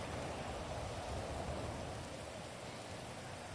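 Steady, dense rain hiss from in-game weather in GTA Online, continuous and fairly loud throughout with no voices over it.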